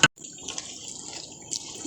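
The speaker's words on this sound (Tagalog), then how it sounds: "Tapos lagyan na natin ng tubig." Water poured into a cooking pot while making kabsa with meat, a short splashing pour after a brief click, steady hissing flow with a small surge near the end.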